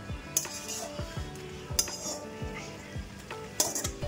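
Fried potatoes go into a bamboo shoot meat curry with a few sharp metallic clinks of a utensil against the pot, spaced apart over a low steady background.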